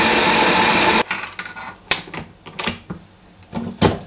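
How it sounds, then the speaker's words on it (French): A food processor beating eggs and sugar at low speed gives a loud, dense whir for about a second, then stops, followed by scattered clunks and knocks of the machine and bowl at close range. "je verse les 3 œufs et le sucre dans le robot. Et je mets à tourner à petite vitesse pour commencer"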